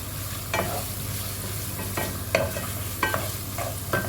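Frying in a pan makes a steady soft sizzle, broken by several sharp scrapes of a spoon stirring at irregular intervals, close and moderately quiet.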